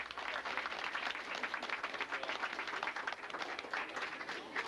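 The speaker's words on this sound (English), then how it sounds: "How about a nice round of applause for the students here at Diamond?" A crowd at a bicentennial lecture in City Hall gives the students a round of applause, a continuous, fairly distant patter of many hands clapping.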